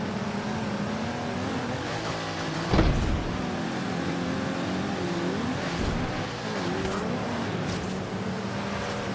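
Rear-wheel-drive supercar in the Forza Horizon 3 racing game roars steadily at speed, with a sharp loud burst early on as the car spins out during a race on dry pavement, then continues its sustained engine drone.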